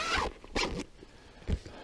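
A zipper on broken fishing gear is pulled in a few short, raspy bursts, fairly close and quiet, separated by brief pauses outdoors by a river.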